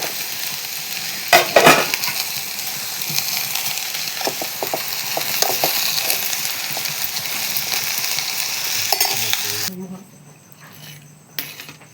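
Okra and tomato vegetables for sambar sizzle and sauté steadily in a pan, a loud close hiss with stirring scrapes and a few clinks, the frying dropping away near the end.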